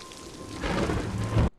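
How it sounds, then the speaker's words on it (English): Steady rain falls through a television drama scene, a dense broadband patter that swells louder partway through with a low rumble underneath, then cuts off abruptly near the end. "And it's raining."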